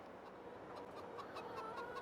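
Chickens clucking in the Farming Simulator 22 video game, a soft, fairly quiet run of short repeated clucks near a chicken pen with no talk.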